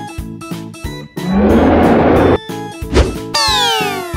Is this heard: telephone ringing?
no